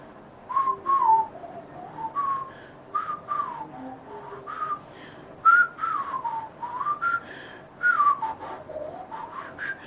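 A person whistles a series of sliding, descending notes in short phrases with brief pauses between them, close and clear against a quiet room, used to demonstrate air flow for horn playing.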